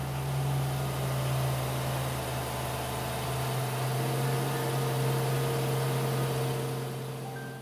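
A Rolls-Royce Phantom engine idles smoothly and quietly, a steady low hum with a faint even hiss, holding constant for several seconds with no voices.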